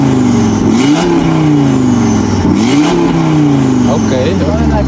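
Audi RS3 engine revving in comfort mode with the exhaust valve closed, a loud rising and falling drone that climbs and drops twice, close and continuous, with voices talking over it.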